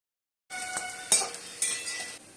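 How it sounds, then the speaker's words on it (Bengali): Shiuli leaf pakoras dropped into hot oil in a wok, giving a steady close sizzle with a few sharper splashes and faint clinks as each fritter goes in. "কড়ার তেলটা গরম হয়ে গেছে, এবার একটা একটা করে আমি পকোড়াটা ভেজিয়ে নেব"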